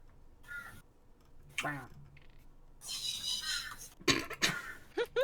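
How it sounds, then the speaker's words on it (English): Crows caw in a few harsh bursts mixed with coughing and throat-clearing sounds, with talk in between. "I was already afraid of the crows"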